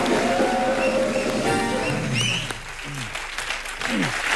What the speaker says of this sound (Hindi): तालियां जरा जोरदार हो जाए